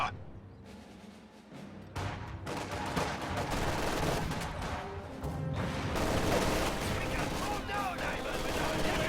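Light machine guns firing in a real-time strategy battle, sustained rapid rattling of gunfire mixed with other weapons and explosions, continuous and fairly loud throughout.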